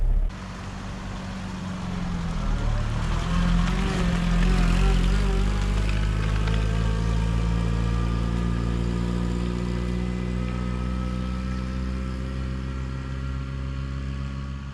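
An old Land Rover engine labours steadily uphill, a loud, continuous close drone with harmonic tones that rise and shift as it pulls, holding strong throughout with no talking.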